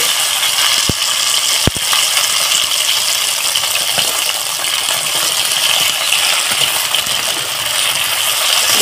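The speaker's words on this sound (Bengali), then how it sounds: "দিয়ে আমি এই কেটে ধুয়ে নিয়েছি ভেন্ডিটাকে লাল লাল করে ভেজে নেব।" Washed, cut okra fries in mustard oil in a wok, giving a steady, dense sizzle with a few sharp clinks, and no one speaks.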